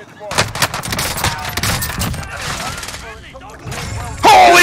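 Rapid video-game gunfire crackles in dense bursts through a shooter match, with overlapping shots and voices chattering over the top, ending in a sharper, louder burst.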